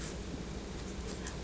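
Pencil or pen writing an equation on paper, a faint, continuous scratchy stroke with small rustles, close and quiet, running alone without voices.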